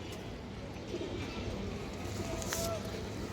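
A female pigeon with black tail and wings gives low, soft coos, murmuring steadily beneath a constant rush of background noise.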